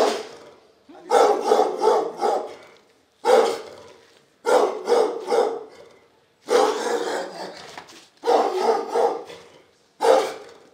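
Guard dogs at a tightly guarded compound in Kampala, Uganda, bark in repeated clusters of rapid barks separated by short pauses, moderately close and fairly loud.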